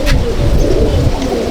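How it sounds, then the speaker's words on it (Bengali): Black-eyed Kalanka pigeon in a loft softly cooing at close range, low murmuring calls that run steadily across the short stretch. "এ দেখুন এই একটা কালো চোখের পায়রা, কালাঙ্কা।"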